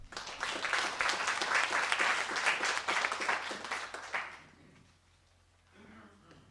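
Audience applause for a speaker at a university thesis presentation final, dense clapping from many hands for about four seconds before it fades out, then a brief faint voice in the quiet afterward.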